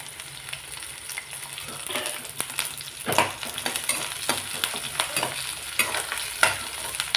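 Onions and dried sardines sauté in a pan with a steady frying sizzle, intermittent scraping and stirring clatters from a spatula, close and continuous.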